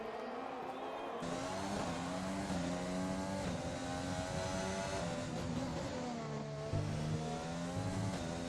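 F1 race cars in a racing video game whine through shifting engine tones as several cars run together near the pit lane, a dense, continuous roar with rising and falling pitch.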